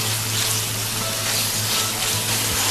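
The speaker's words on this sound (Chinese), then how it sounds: "再加入一小块肉末翻炒" Minced meat stir-fried in a wok with a little oil, ginger, garlic and diced green pepper gives a steady, dense sizzle that holds close and even throughout, with no voices.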